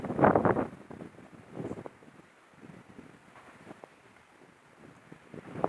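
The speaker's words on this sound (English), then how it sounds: "Look how the wind is blowing." Strong wind gusts buffet the microphone in a village, rumbling and roaring in uneven waves that are loudest at the start and then settle into a steady, lower blustering.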